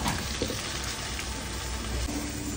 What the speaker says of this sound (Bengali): এবার কিন্তু তেলের ভিতরে দিয়ে দিল ভ্যাটকল।